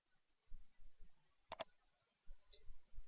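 Computer mouse giving a quick double click, sharp and close, amid faint low bumps of desk handling in a quiet room.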